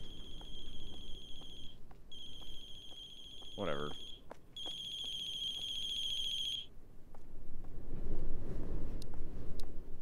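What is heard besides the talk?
mobile phone ringing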